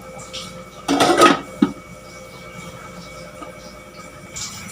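A lid goes onto a cooking pot of fish paksiw in a home kitchen: one sharp metallic clatter, then a lighter clank a moment later, against a quiet background hum.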